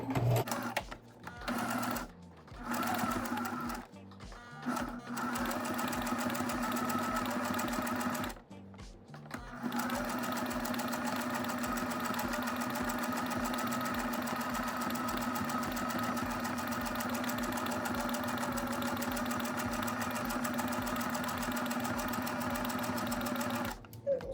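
A sewing machine stitches heavy webbing for a horse halter, a steady close mechanical whir running continuously after a few short stop-start bursts and a brief pause near the start.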